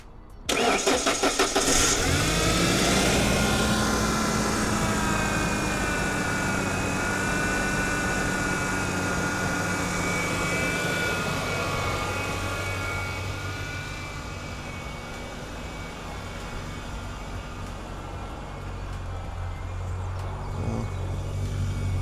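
A 1996 Ford Ranger pickup engine on a run stand, started by jumpering the solenoid, cranks briefly then catches and starts, settling into a steady idle that runs on alone with a slight dip in loudness later.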